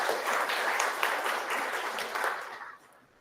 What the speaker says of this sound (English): Another round of applause for our closing speaker today.